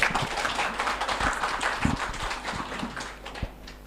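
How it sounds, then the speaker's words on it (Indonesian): A crowd applauding steadily, a dense wash of clapping hands that holds for a few seconds with occasional louder claps standing out. "Wow, tepuk tangan dong."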